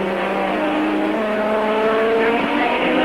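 A burning Formula 1 car from the 1985 European Grand Prix, on fire and dropping oil, is driven into the pits, giving a loud, continuous engine roar that stays dense and steady throughout, with no clear talk.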